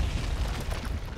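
A low, rumbling explosion in the fighting game Mortal Kombat vs. DC Universe as Baraka bursts apart, a heavy sustained boom filling the whole moment with no voices.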